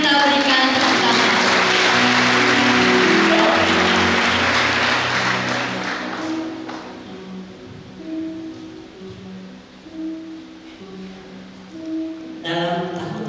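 A church congregation claps at a Sunday service, a dense, loud burst of applause that fades after about six seconds, while sustained musical tones carry on underneath and beyond it.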